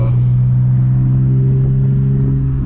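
A BMW E46 engine idles steadily close by, a smooth low drone with a strong, constant hum and no revving, running alone without talk.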